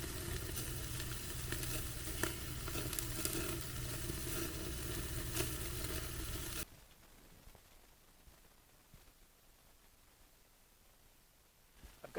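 Beef ribs glazed with brown sweetener sizzle steadily under a broiler, a loud crackling hiss for about six and a half seconds before it drops off abruptly to a faint background hush.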